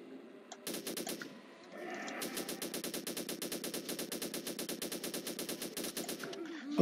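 Rapid automatic gunfire from the indie video game Lambda Project 2 (2014), a short burst followed by a long, steady, evenly spaced stream of loud shots with a mechanical clatter, heard alone without speech.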